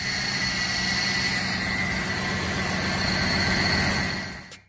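A Cadillac's GM Northstar 4.6-liter aluminum V8, with dual overhead cams and 32 valves, runs at a steady, loud idle-like hum with a whining tonal layer, then fades out abruptly at the end.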